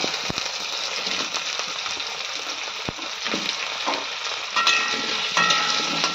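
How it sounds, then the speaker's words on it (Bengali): Potatoes fry in hot oil in a kadai, giving a continuous loud sizzle with occasional crackles and a few clinks of a utensil as they are stirred. "এই কড়াইতে এবার আলুগুলো ভেজে নেব"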